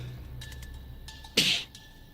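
A single short sneeze bursts out once, close and fairly loud against a quiet background.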